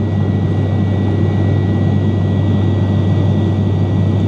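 Steady, loud cabin drone of a Binter airliner in flight, a constant low engine hum with broadband air rush and no talk.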